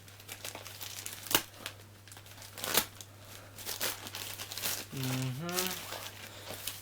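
Plastic and cardboard packaging of a GoPro Hero3+ Black Edition replica camera being unwrapped with a cutter, giving intermittent crinkling and tearing with a few sharp crackles, close up, while a voice talks partway through.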